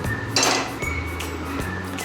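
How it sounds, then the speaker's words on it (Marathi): An iron wok set down on a gas stove while preparing Solapuri peanut chutney gives a single metallic clank with a brief ringing clink, close and fairly loud, followed by a quieter knock. "सर्वप्रथम गॅसवर कढई ठेवून घेऊया"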